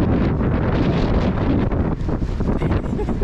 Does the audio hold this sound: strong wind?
yes